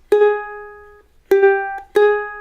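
Three plucked ukulele notes ring out in turn, the first bent up high and sustaining longest, with a slight pitch bend before the later notes fade quickly.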